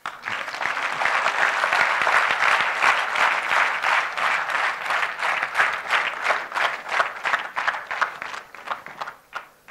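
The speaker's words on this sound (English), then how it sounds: "Now you can clap." A lecture audience claps for Mr A Thirunavukkarasu, President HR of J K Tyres, sustained loud applause of many hands that holds steady for several seconds and then thins into scattered, uneven claps toward the end.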